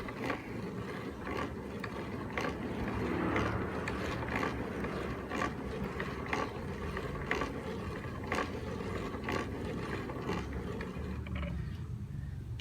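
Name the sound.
clamp-on hand grinder grinding masa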